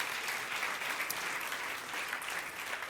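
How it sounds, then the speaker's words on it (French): Church congregation applauds loudly in a steady, dense burst of clapping that fills the room throughout, with no talk over it. "Et tous ceux qui sont d'accord avec ça disent Amen et applaudissent bien fort"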